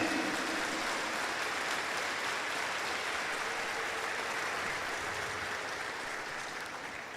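Applause from a congregation at a Sunday evening Catholic Mass, a soft, even wash of many hands clapping at a distance in a reverberant church, slowly fading toward the end, with no talk over it.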